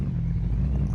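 A Toyota Supra engine idling steadily in Car Mechanic Simulator 2021, a smooth, even low rumble that holds constant and close throughout with no other sounds.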